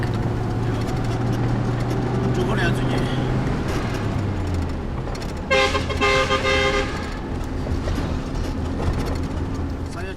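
Toyota Land Cruiser cruising the Friendship Highway in Tibet, a steady loud low engine and road rumble inside the vehicle, with a harmonic horn toot around the middle.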